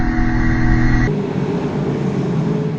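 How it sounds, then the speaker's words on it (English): TA2 muscle race cars with well over 500 horsepower give a steady, throaty engine drone at Morgan Park raceway, with the tone shifting abruptly partway through, unbroken by talk. "The throaty rumble, well over 500 horsepower."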